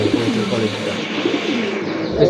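Pigeons coo in low, throaty rolling calls close by at a market selling fancy and racing pigeons, a steady murmur under background noise.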